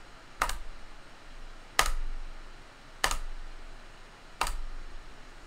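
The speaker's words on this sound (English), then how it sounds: "So this is the old keycap. Let's just use the spacebar as an example, right?" An old-keycap keyboard spacebar pressed four times at steady intervals, each a crisp, close clack with a short rattle, alone over faint background hiss.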